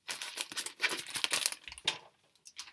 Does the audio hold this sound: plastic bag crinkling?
yes